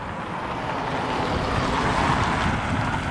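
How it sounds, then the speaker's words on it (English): Brisk wind blows across the microphone on a sunny day in Gyro Park, a steady, loud rushing roar with no pauses or voices. "there's a brisk wind today"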